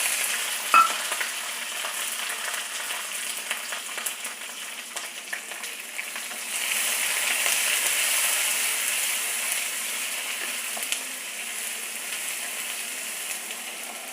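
Chopped onions with curry leaves and chana dal frying in oil for a brinjal thokku, a continuous close sizzle that swells midway, with a few utensil clicks and no talking.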